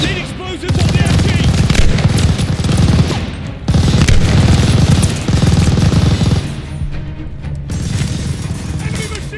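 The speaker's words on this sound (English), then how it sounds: "Enemy machine gun! Need to demo that MG!" Loud, sustained machine gun fire in the World War II shooter Call of Duty: Vanguard, rapid bursts that fill the clip with brief gaps near 1 and 3.5 seconds, mixed with battle noise and shouting voices.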